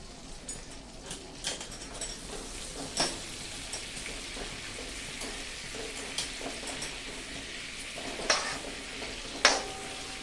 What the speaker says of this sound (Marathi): आता बटर छान मेल्ट झाल्यानंतर त्याच्यामध्ये थोडेसे जिरे घालायचे अगदी थोडे जिरे आणि मोहरी